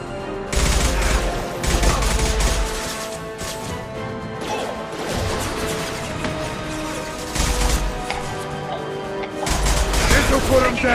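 Bursts of gunfire from Mass Effect 2 combat, several heavy volleys with crashing impacts spread across the stretch, loud and close, mixed with music and battle noise.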